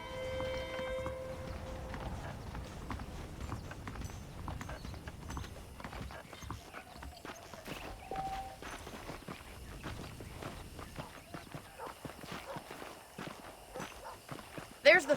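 Saddled horses walk along in the Western video game Red Dead Redemption, their hooves clip-clopping softly and steadily over a dusty ground, with someone talking over them.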